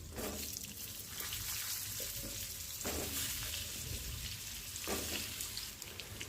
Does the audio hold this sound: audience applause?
no